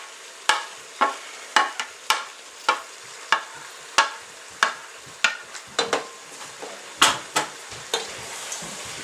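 A spoon scrapes and knocks around a pot of homemade Italian sauce, about fifteen sharp stirring strokes in an uneven rhythm, close and fairly loud, with no voices.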